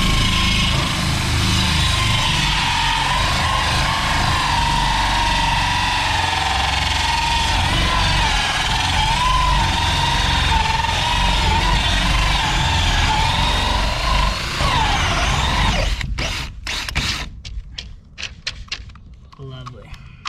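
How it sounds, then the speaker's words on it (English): A power drill whirs continuously and loudly up close for a long stretch, then stutters in short bursts near the end, while plumbing a fiberglass swimming pool. "drill away."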